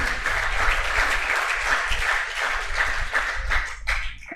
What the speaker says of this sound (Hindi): इस जोरदार तालियां हो जाए इसी बात पे।